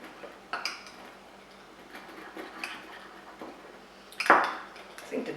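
A utensil stirs homemade ranch dressing with dill in a bowl, giving soft scattered clinks against the dish and one sharper ring near the end, all fairly quiet.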